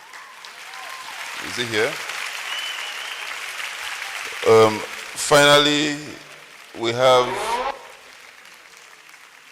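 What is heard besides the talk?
audience applause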